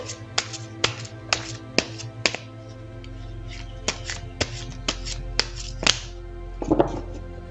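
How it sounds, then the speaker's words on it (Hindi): Tarot cards being shuffled by hand in a quiet room, a run of sharp crisp riffling snaps and taps at irregular intervals, close and fairly clear over a low steady hum. "तो चलिए पहले ज़रा कार्ड्स को शफल कर लेते हैं"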